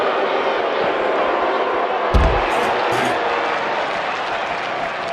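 Sold-out arena crowd at a Hell in a Cell wrestling match, a steady roar of cheering and applause, with a single thud partway through and voices talking over it.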